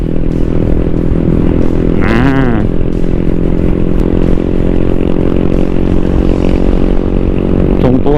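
A Honda Click160 four-valve automatic scooter being ridden and accelerated: a loud, steady engine drone with rushing wind noise all through, plus a brief whine and some rattling clatter partway through.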